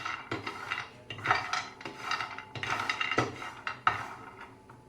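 Almonds are dry-roasted in a pan on a low flame, stirred with a steady scraping and rattling, irregular clinks and rasps up close with no talking.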